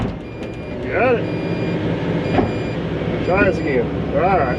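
A machine backing up gives out a series of reversing beeps, repeated warbling tones that sound clearly over a steady engine rumble, with brief talk nearby.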